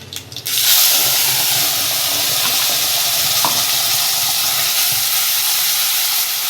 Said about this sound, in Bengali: আমি একটু তেলে জিরে ফোড়ন করে নেব, আর দিয়ে দেবো বাটা মশলাটা